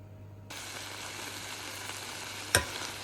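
Greek yogurt is stirred through a hot pan in a home kitchen, a close, steady sizzle and scrape that starts abruptly, with a sharp clink of the utensil near the end.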